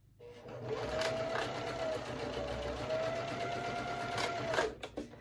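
A domestic sewing machine runs steadily, stitching a wallet card slot, a continuous close motor whir with a few brief stops and clicks near the end.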